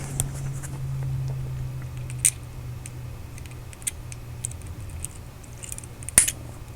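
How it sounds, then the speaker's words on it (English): Small scissors snip close up while detailing a Matchbox '68 Gulf Ford GT40 diecast car: two sharp, crisp cuts several seconds apart, with faint ticks and handling clicks between over a low steady hum, no talking. "I think we'll just snip off just a hair more."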